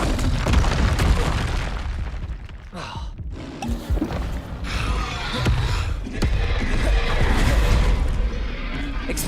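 Blasting spells explode again and again in the Hogwarts Legacy video game, with dense, loud booms and bursts over busy combat noise and no pause.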